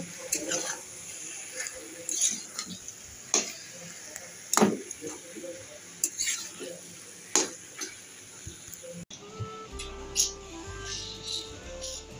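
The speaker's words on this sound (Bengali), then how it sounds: "এই যে পালং শাকটা বসিয়ে দিয়েছি" Spinach cooks in a pan with a soft, steady sizzle, broken by sharp scraping stirs every second or two. Near the end the stirring gives way to faint sustained tones.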